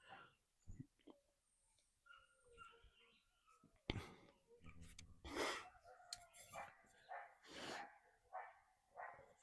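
A dog barks in several sharp bursts over a quiet outdoor dawn scene by a mountain range, the barks fairly close and loud, with faint birdsong and a few soft human sounds in between.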